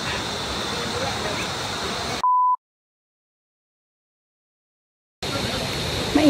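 Loud, steady rushing of water from a mountain spring or stream, cut off abruptly by a short beep tone and a few seconds of total silence before the roar returns.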